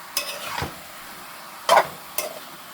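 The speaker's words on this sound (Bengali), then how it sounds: "ভালো করে মশলাটা সুন্দর করে নেড়ে নিতে হবে" A spice masala for gorur bot, a beef tripe curry, is stirred in a pan, giving a few scraping, clattering strokes of a utensil over a soft sizzle, close and moderately loud, with no speech.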